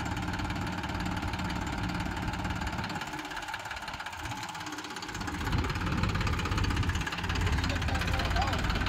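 A 39 HP tractor engine runs steadily at close range at a brick kiln, a low rumbling drone that dips briefly and then swells back up.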